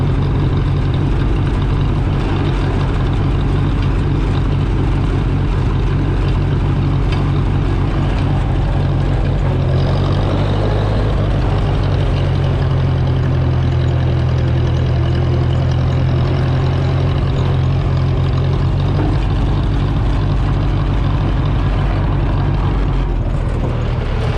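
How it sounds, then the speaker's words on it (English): An old tractor engine, run for the first time in about ten years, idles and chugs roughly and steadily throughout, loud and close, with a slight rise in throttle partway through and some background noise and light rain. "First time this tractor's run in a long, long time."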